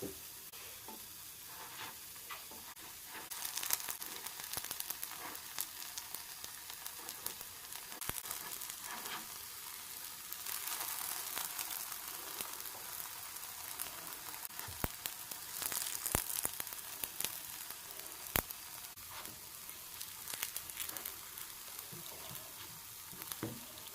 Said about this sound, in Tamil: நல்லா வெந்து வந்துட்டு குழி பணியாரம்